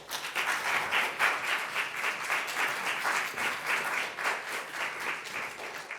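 An audience applauds to welcome a speaker to a book reading, with dense, steady clapping that swells and fades slightly over several seconds, no voices over it.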